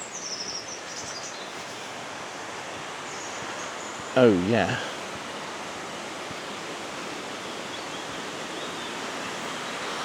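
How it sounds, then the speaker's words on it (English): A stream flows on Dartmoor near Chagford as a steady, broad rushing hiss filling the whole clip, with a brief spoken remark partway through. "And the sound of water ahead."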